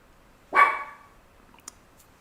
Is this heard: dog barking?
yes